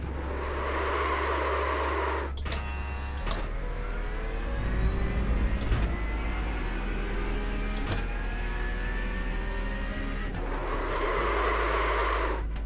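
Race car in the iRacing sim braking hard with locked tyres, a steady engine drone with a sustained tonal screech through the middle and louder bursts at either end, with no talk.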